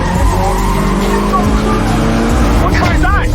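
A fast car on a rally course speeds past and skids with squealing tires, loud and close, the engine roaring under the screech.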